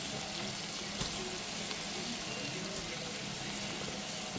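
Onions and peppers sautéing in a stovetop pan, a steady close sizzle and crackle running throughout without pause.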